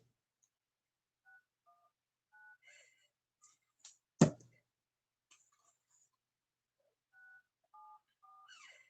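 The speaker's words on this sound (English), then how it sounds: "Let me call this number right quick." Several short bursts of telephone keypad dialing tones, each a steady dual-pitch beep in a quick irregular sequence, with a loud thump midway, faint clicks and more beeps near the end.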